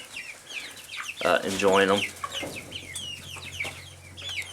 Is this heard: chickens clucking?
yes